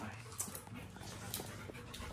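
A dog pants in quick, steady breaths mixed with soft whimpers. The sound is close but fairly quiet, and faint voices can be heard in the background.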